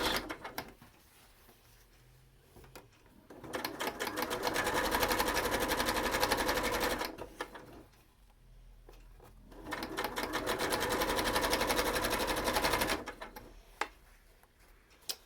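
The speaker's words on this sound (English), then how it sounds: "we're just going to top stitch that closed all the way down and stitch it to the mask as well" A sewing machine top-stitches a fabric face mask in two long, fast, buzzing runs of about three seconds each. Quiet pauses separate the runs, and a single soft click comes near the end.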